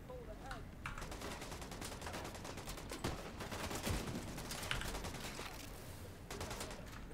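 Rapid bursts of gunfire rattle through a firefight in the video game The Division 2, dense and continuous at moderate volume, with several sharper individual shots.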